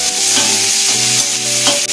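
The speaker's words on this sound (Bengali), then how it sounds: "এই উচ্ছাটা একটু ভালো করে ভাজা হোক" Bitter gourd frying in a pan for a bitter gourd, potato and hilsa fish dish, a steady loud sizzle with stirring scrapes, a faint tonal hum running underneath throughout.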